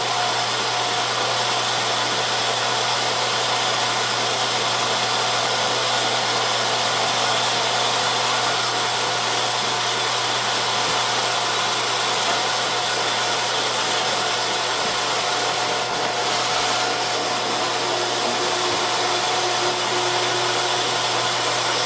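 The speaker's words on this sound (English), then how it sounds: "First thing I'm going to do is go ahead and grind up all this." An electric meat grinder runs continuously, grinding wild game meat for burgers, with a loud, steady motor whine and hum throughout and no talking.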